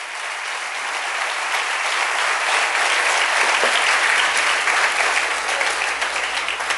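A congregation at a Spanish-language church service claps together, a full, bright wash of applause that builds in the first seconds and then holds strong and steady.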